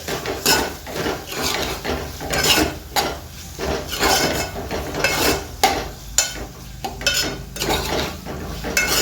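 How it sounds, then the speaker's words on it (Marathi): A spoon stirring tomato masala in a pan for a Marathi ridge gourd curry, repeated close scraping strokes against the metal with a soft sizzle underneath, loud and steady with no talking. "तर आता आपल्याला हलवायचं आहे मसाला। टोमॅटो चांगला शिजला पाहिजे।"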